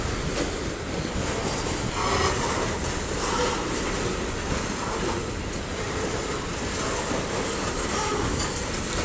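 A BNSF freight train rolls steadily through a railroad crossing in Effingham, Illinois, with continuous loud rumbling and faint rhythmic wheel clatter sustained throughout, no voices.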